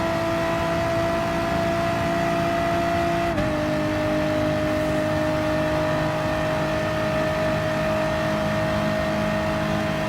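A Renault Sport race car in Gran Turismo Sport drones with a loud, sustained engine note that drops slightly in pitch a few seconds in, then holds steady.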